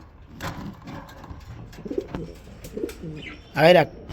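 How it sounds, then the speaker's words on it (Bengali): Lotan pigeons coo in soft, repeated calls at a pigeon market, ending with one louder, closer coo, while people talk nearby. "এক জোড়া লুটন কবুতর আমরা দেখাইছি ইতিপূর্বে, আরেকটা জোড়া আছে লুটন"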